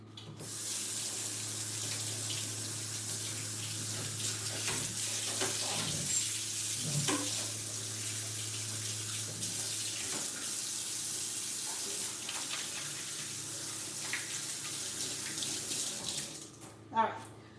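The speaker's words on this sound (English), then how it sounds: "let me wash my hands here" Steady tap water runs into a kitchen sink during hand washing while cooking, a continuous close hiss lasting throughout before cutting off near the end.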